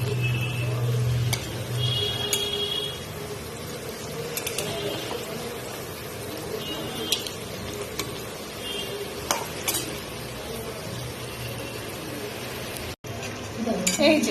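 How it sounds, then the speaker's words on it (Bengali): Rasabali, puffed cheese patties for the Rath Yatra sweet, frying in oil over a medium to low flame, with a steady soft bubbling sizzle, occasional clinks of a utensil against the pan and a few brief stirring sounds. "মিডিয়াম টু লো ফ্লেমে ভেজে নেব।"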